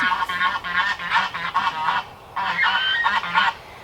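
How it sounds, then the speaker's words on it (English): Geese honk repeatedly in two bursts of loud, harsh calls, several birds overlapping close by, with a short pause in between. "We have some really beautiful geese over there, but they're super obnoxious."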